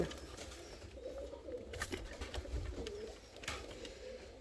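Milk-white doves give soft, low coos amid a faint, busy background of rustles and taps, the calls recurring quietly across several seconds.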